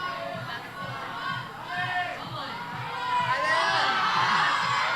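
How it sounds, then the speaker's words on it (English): A crowd cheering, shouting and whooping at a women's bouldering semi-final at the IFSC Asian Cup in Manila, a dense, lively roar that swells louder toward the end with a commentator talking over it. "The crowd is going wild, shouting in support for Demi."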